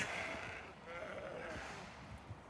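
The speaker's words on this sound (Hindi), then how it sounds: "कितनी सारी भेड़ें हैं यार ये" A flock of sheep with small lambs among them, walked alongside by a dog, bleats repeatedly at middle distance, the calls overlapping and rising over outdoor background noise, with a voice talking in between.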